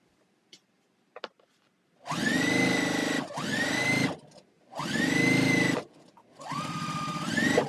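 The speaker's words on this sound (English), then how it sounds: "That Juki goes through everything, I'm telling you." A Juki sewing machine stitches through a thick seam in three close bursts of fast, buzzing motor hum, each separated by short pauses, with a few faint clicks before it starts.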